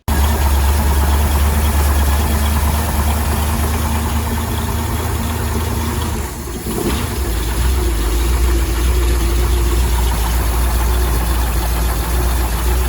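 A motorcycle engine runs steadily near the microphone, a constant rumbling drone with a brief dip in the middle, no voices over it.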